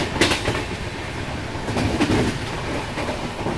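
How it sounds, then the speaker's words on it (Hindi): A passenger train rolls on rails through the forests of Chhattisgarh, a steady close rumble with faint rhythmic clicks of wheels over track joints. "अब अपनी ट्रेन छत्तीसगढ़ के जंगलों से गुजर रही है"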